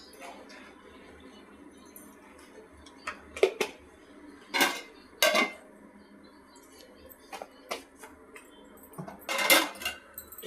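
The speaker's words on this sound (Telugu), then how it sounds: "ఇట్లా బగారా రైస్ని మధ్య మధ్యలో కలుపుకోవాలి" Bagara rice being stirred in a cooking pot, with scattered metallic scrapes and clinks of a spoon against the pot, several louder strokes standing out over a low background hum.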